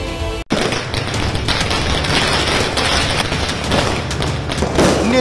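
Firecrackers burst in a dense, rapid barrage at the Ayodhya Deepotsav festival, sharp cracks and booms overlapping continuously and loudly after a brief pause at the start, with no one speaking.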